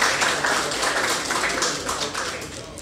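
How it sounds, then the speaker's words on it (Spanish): A studio audience on a talk show claps steadily, a dense, even wash of applause with no talking over it. "Un fuerte aplauso para ella, por favor"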